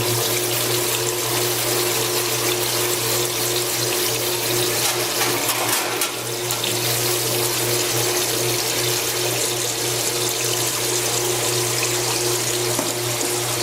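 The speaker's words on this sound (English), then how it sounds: "take your wand again with the oil flowing out and wash down all the debris that you have scrubbed off" A wand pours out a steady stream of oil to wash down scrubbed-off debris, making a continuous gushing, splashing flow over a low mechanical hum, with one brief dip in the middle.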